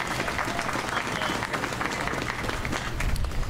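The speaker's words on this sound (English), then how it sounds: "we can clap to that." Steady applause from an inaugural address audience, a dense, loud wash of clapping that holds evenly throughout with crowd noise mixed in.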